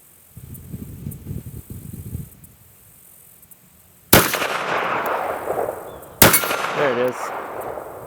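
Walther WMP pistol fired at a one-third size silhouette target about 25 to 30 yards away outdoors: two sharp, loud single shots a couple of seconds apart, each ringing out with a long echo tail, after some quieter handling noise.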